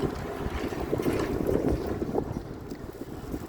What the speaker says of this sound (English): Wow, that wind is really strong out here today.